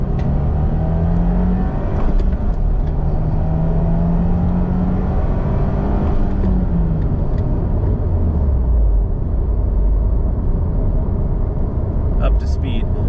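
A 2022 Subaru WRX cruising at highway speed, its steady engine drone and road rumble continuous and loud throughout, with a pitch that sweeps and dips as the car shifts.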